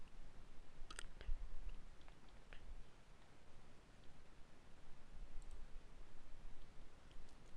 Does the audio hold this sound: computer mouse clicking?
yes